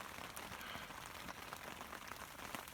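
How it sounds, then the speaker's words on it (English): Steady rain patters on a Kuiu Storm Star tent pitched high in the Wind River range, a faint, even hiss of drops on the fabric with no other sound. "Luckily it started raining"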